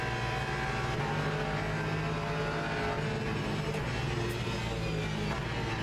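Sim-racing engine roar in Le Mans Ultimate, a GT3 or LMP2 race car accelerating hard with a steady, dense drone that holds loud and unbroken throughout, with no voices over it.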